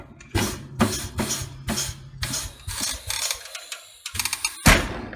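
A tire machine breaks the bead on an 18-inch wheel, giving a series of loud, repeated mechanical clunks and ratcheting bursts with short pauses, ending in a sharp bang.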